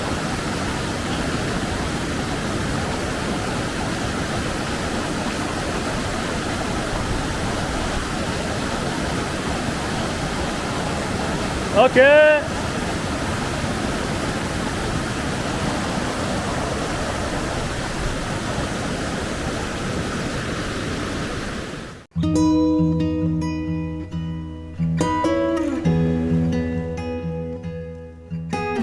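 Glacial stream water rushes steadily near the Braldo River trail on a K2 trek, a broad continuous roar under a brief spoken word, before the scene cuts away to music.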